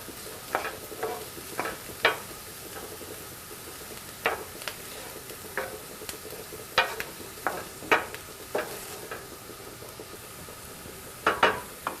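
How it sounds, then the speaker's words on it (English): Onions in a hot pan give a low, steady sizzle, broken by a dozen or so sharp spoon-on-pan scrapes and taps at irregular intervals, close and clear with no talk. "We want those onions to get nice and browned and soft, so we're gonna let them sit on the heat."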